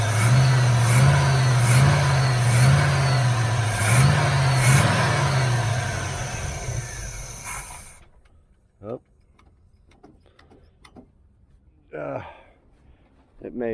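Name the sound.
1981 Camaro Z28 engine accelerating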